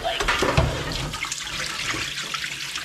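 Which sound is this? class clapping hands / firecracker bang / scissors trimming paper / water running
water running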